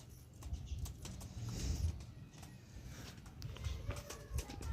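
Pigeons in a newly built coop coo in soft, low, throaty pulses that recur and overlap across the stretch, fairly close but quiet, with faint rustling behind them.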